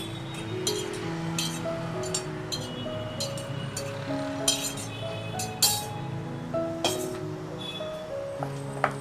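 A spoon stirs soya chunks roast in a pan, producing repeated metallic clinks and scraping taps at an irregular rhythm, close and moderately loud, with a soft ringing tone after some strikes.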